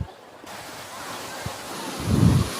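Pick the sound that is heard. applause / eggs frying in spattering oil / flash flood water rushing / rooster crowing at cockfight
flash flood water rushing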